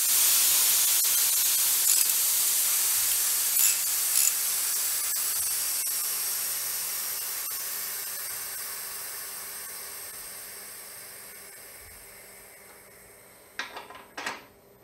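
A pressure pot vents its pressure before opening, a loud steady hiss that slowly fades over many seconds, with a few faint clinks and knocks near the end.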